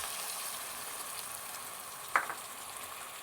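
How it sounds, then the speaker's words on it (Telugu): Chopped tomatoes frying in a pan after chilli paste, a faint steady sizzle with one brief clink of a spoon near the middle. "బాగా వేగేలా ఫ్రై చేసుకుందాం"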